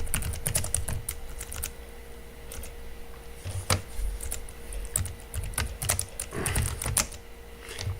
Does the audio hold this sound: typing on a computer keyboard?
yes